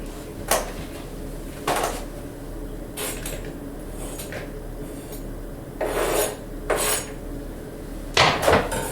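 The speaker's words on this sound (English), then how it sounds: "Now let's just mix in the ham." Ham is stirred into muffin batter in a bowl, giving intermittent rasping scrapes and soft rubbing strokes of a utensil against the bowl, close and quiet.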